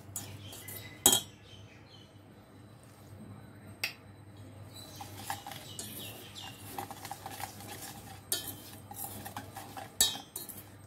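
A utensil stirring a condensed milk mixture with water in a pan, heard as repeated scraping and clinking of metal against the pan over a steady low hum, with occasional sharper clinks.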